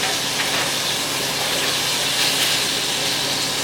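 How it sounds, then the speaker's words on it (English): Shrimp for shrimp scampi sizzles steadily in a hot pan, a continuous close hiss with no pauses, loud and even throughout with no talking. "Now that we have everything chopped up, we're gonna go ahead and flip our shrimp."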